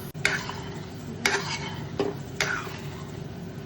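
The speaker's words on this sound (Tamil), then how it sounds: "இன்னும் கொஞ்சம் நேரம் கிளறணும்" Jackfruit payasam (chakka pradhaman) being stirred in a pot as it thickens, with a few scraping strokes of a spoon against the pot at irregular intervals over a low steady background.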